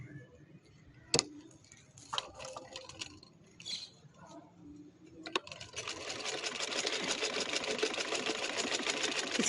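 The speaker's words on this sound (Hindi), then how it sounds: "इसी तरह ये सारी मैंने सिलाइयाँ लगा लेनी है, इन दोनों को पकड़ते हुए निशान लगाते हुए।" A sewing machine stitches an off-white trouser. A few sharp clicks and handling taps come first, then the motor settles into a steady, close, rapid running whir that grows louder toward the end.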